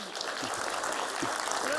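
Audience at a press gathering clapping in a continuous, even patter throughout, with a voice faintly underneath.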